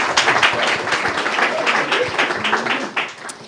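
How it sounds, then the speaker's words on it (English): Audience applause following a presentation at a conference on small and medium-sized cities in the Baltic Sea Region, a steady wash of clapping lasting a few seconds before tapering off. "Big round of applause."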